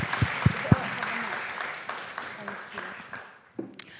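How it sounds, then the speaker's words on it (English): An audience gives a round of applause at a student-organised pharmacy conference, opening with a few sharp claps before settling into steady clapping that fades out over several seconds. "Can we give a round of applause?"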